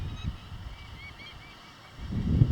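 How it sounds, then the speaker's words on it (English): An agitated bird calls near its nest at a historic mining site, giving a few faint, thin honking calls over a low rumbling background with no talk. "I don't know if you can hear the bird, and I don't know what kind of bird that is"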